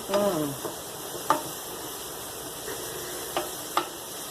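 Soft sizzle of rice frying in a pan for pilaf, with a few sharp clinks and scrapes of stirring, no talking.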